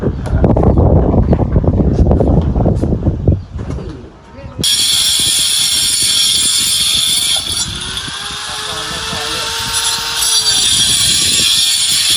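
Outdoor wind rushes steadily over the microphone, a broad continuous hiss after a muffled stretch, with people talking and occasional bird and background sounds.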